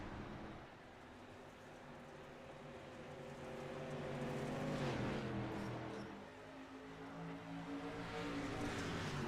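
Race cars in a seven-lap heat race drone faintly in the distance, their engines forming a steady, layered hum that rises and falls gently as they circle the track.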